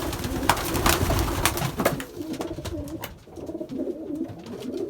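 Racing pigeons in a dusty loft coo in low, repeated rolling phrases, close and steady, mixed with wing flutters and light rustling.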